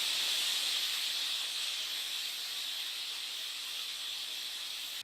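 Steady, loud steam hiss from a pressure cooker cooking dal for dal makhani, a continuous high-pitched rush that holds for about five seconds before cutting off abruptly.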